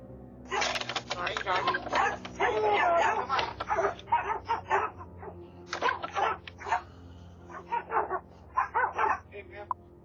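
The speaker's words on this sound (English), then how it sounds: "She's lucky those dogs didn't get a hold of her. They sure sounded hungry." Several dogs bark in bursts at an intruder in a residential yard, with loud, fairly close barking that comes in irregular clusters over roughly ten seconds and brief pauses between volleys.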